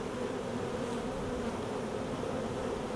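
Honey bees swarm over an open hive frame of capped brood and larvae, a dense, continuous buzzing hum that stays close and steady with no talking.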